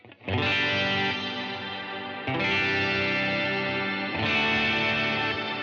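Electric guitar chords swelling into a bright, shimmering reverb from a shimmer pedal setting, three sustained strikes that ring out in a lush, pitched-up wash with no talking.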